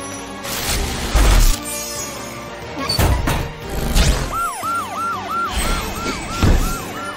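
A cartoon super police car's siren wails in a repeating up-down pattern over loud, busy cartoonish action sounds with bangs and crashes, fairly close and prominent.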